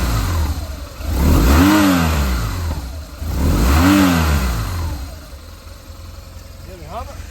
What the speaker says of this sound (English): I'll give the bike a few revs and you can hear how she sounds.